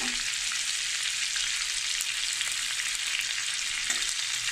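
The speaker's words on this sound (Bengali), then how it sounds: "অল্প একটু ভেজে তুলে নিচ্ছি। বেশি ভাজলে চিংড়ি মাছগুলো শক্ত শক্ত হয়।" Prawns fry in hot oil with a loud, dense, continuous sizzle that holds steady throughout, close up and with no talk.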